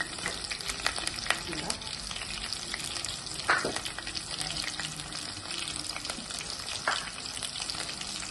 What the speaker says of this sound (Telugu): పచ్చిమిర్చి ఇప్పుడు అవి ఫ్రై చేస్తున్నాం